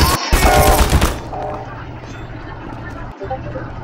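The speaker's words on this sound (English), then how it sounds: "Uh-oh, turrets." Automated turrets in Half-Life 2 let off a loud, rapid burst of gunfire for about a second, then a low mechanical hum and scattered faint sounds linger, with speech in the background.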